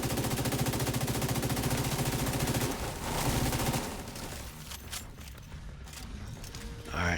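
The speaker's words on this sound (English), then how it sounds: "And that's the shotgun." Rapid mechanical gunfire rattles steadily in The Division 2, loud and sustained before thinning out into scattered shots and game ambience with little talk.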